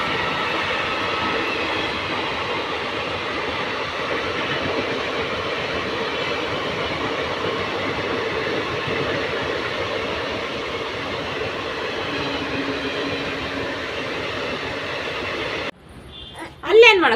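A train pulling in at a station, a long steady rumble of wheels and carriages heard from aboard, cutting off abruptly near the end when a voice briefly speaks.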